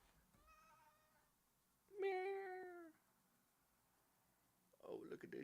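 A pet cat named V gives a single clear meow, short and close, in a quiet room, followed by a burst of other noise.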